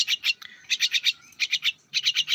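Pet myna birds chirp in rapid bursts of bright, repeated calls that come in quick clusters with short pauses between them, close and fairly loud with no talk.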